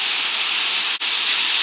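Water splashed into a hot pan of Doritos makes a loud, steady, close steam hiss, with one brief dip midway.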